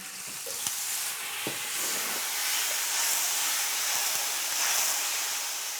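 Dry white wine and flour sizzle in a hot frying pan, giving a loud, continuous hissing crackle that holds steady throughout with a few faint clicks underneath.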